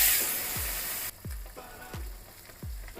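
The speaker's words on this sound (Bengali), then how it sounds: "হিংটা দেওয়ার পরে ব্রাউন কালার করতে হবে।" Asafoetida frying in hot oil until brown, with a bright, steady sizzle, much of it in the first second, plus four low, dull knocks spaced about two-thirds of a second apart.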